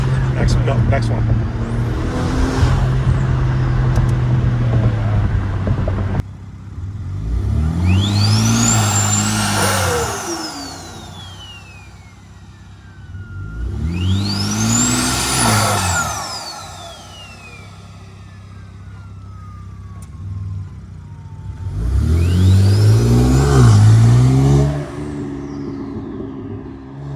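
A BMW X3M fitted with a T51R exhaust mod revs hard in repeated bursts, each rising to a piercing jet-like whine then falling away, loud and close, with a steady idle rumble between pulls.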